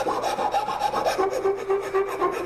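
A coarse bastard file rounds over a wooden tenon held in a vise, giving a steady rasping scrape with repeated back-and-forth strokes, close and fairly loud, with no talking.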